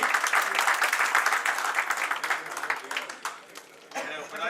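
Dense, steady applause from a hall audience at a Punjab tent dealers' welfare association executive meeting in a hotel, loud and close throughout, thinning slightly near the end before swelling again.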